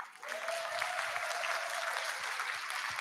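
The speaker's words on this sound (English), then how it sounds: "Let's just give a round of applause." Audience at a speaking workshop breaks into steady applause, a dense wash of clapping that starts abruptly and continues evenly throughout, with a faint sustained tone underneath.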